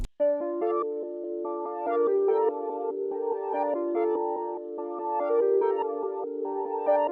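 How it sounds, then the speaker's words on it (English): Synth chord progression treated with a Portal modulation effect and a halftime effect, made in FL Studio for a hard beat; sustained layered chords shift steadily with a warbling, modulated texture, playing alone at moderate level. "So if you're hearing that like modulation effect, that's portal"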